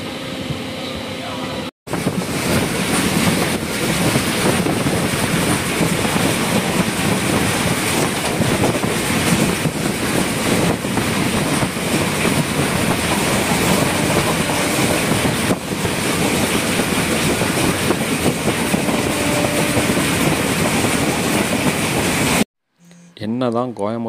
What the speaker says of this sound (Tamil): இந்த வண்டியும் இங்கே ஒரு 2 நிமிஷம் நின்றுட்டு தாங்க அடுத்த மதுரைக்கு போகும்